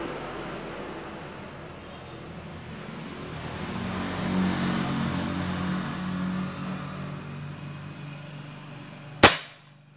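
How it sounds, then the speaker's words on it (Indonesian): Air rifle with a 45 cm six-groove PD12 barrel firing a slug pellet: one sharp, loud crack near the end, after several seconds of steady outdoor rumble. "Tembakan keempat."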